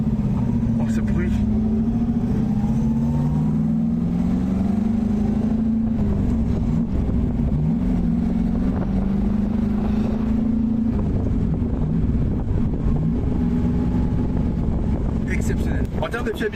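A Chevrolet Corvette C1, a classic American sports car, drives with a steady, loud low engine drone and shifting pitch throughout, accompanied by wind noise, with occasional talk over it.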